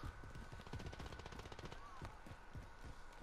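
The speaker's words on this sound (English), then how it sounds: "someone's still shooting at me from the other house though" Rapid bursts of gunfire in a multiplayer shooter game, a fast, steady volley of sharp cracks with a few louder single shots toward the end, fairly faint and under a player's voice.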